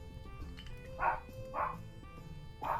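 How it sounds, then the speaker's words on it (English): A dog barking in the background, three short muffled barks spaced about half a second to a second apart, faint and distant, with some quiet room noise between. "Apologies for the dog barking in the background."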